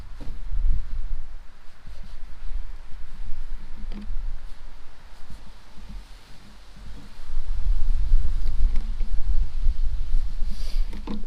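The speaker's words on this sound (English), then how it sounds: "A little breezy out here." Gusty wind buffets the microphone outdoors while a steelhead is filleted, with low rumbling roars that ease off midway and then surge back stronger, plus faint rustles and clicks and no talk.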